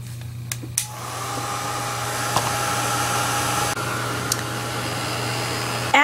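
Heat tool blowing hot air to melt UTEE embossing enamel, a steady whirring hum with a strong low drone, continuous for several seconds, with a few faint clicks and knocks over it.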